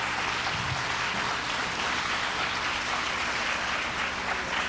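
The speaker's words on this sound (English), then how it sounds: "Give them another big round of applause." An audience at a cancer society charity telethon applauds steadily, a dense wash of clapping with a low hum beneath and little talk.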